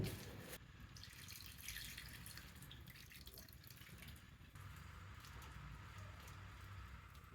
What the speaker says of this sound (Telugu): ఆ నీళ్ళని ఇందులో పోస్తాను